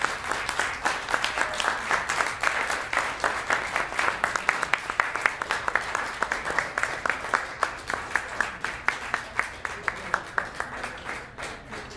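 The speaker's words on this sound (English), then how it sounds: "please give another round of applause to Janice Buckner" An audience applauds a featured performer at a live show, sustained dense clapping with a steady rhythm that holds for the whole stretch at moderate volume.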